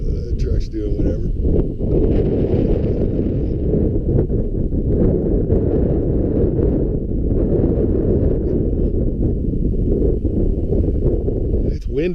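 Strong wind buffets the microphone at an open vista viewpoint on a road and camping trip through Colorado, New Mexico, Arizona and Utah, a loud, continuous low rumble lasting throughout.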